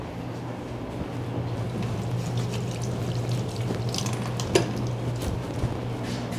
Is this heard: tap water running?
yes